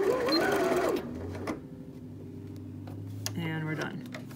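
A sewing machine backstitches a cork pencil case in short bursts of quick mechanical clatter, heard up close as someone talks over the start.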